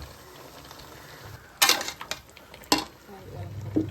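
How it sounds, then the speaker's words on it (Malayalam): A spoon scrapes and clinks against a pot while a ground paste of curry leaves and fennel is stirred, a few sharp metallic knocks over a quiet background with faint sizzling. "നന്നായിട്ടൊന്ന് ഇളക്കണം അല്ലേ?"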